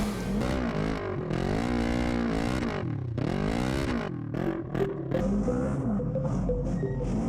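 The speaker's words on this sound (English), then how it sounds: "we were able to take this RS1 and open it up, passing with ease" A stock Polaris RS1 off-road vehicle races on a tight cross-country track, its engine revving and rising and falling in pitch as it opens up and passes other machines, loud and close.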